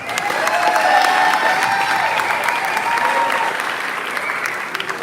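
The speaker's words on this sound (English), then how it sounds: "Nice round of applause for our Sombrero Festival President, Mr. Neil Mathers." Audience applause at the Charro Days Fiesta 25th anniversary poster unveiling, a loud, dense round of clapping for the Sombrero Festival president that holds steady for several seconds before easing off slightly, with some crowd noise mixed in.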